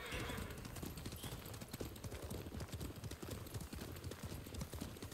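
Horse hooves clip-clop in a fast, steady galloping rhythm while riding in Ghost of Tsushima, close and continuous, with a faint game backdrop and no talk.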